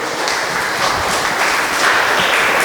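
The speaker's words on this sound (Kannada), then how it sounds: "ದೇವರಿಗೆ ಚಪ್ಪಾಳೆ ಸ್ತೋತ್ರ ಸಲ್ಲಿಸ." Church congregation claps together in praise of God, a steady wash of many hands applauding at close range with no voices over it.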